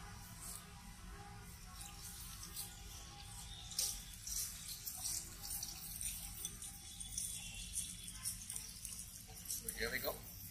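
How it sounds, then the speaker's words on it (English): Pure biodiesel poured from a container through a filter into a vehicle's diesel fuel tank, a quiet, steady liquid trickle and splash lasting several seconds with no voices. "just simply pour"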